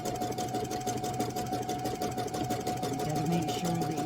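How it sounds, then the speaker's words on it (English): Sewing machine stitching a zigzag seam on fabric for a bowl, steady rapid mechanical whirring with fast regular needle clatter, close and continuous. "Staying focused on where my seam is going, or my stitches, my zigzags going back and forth."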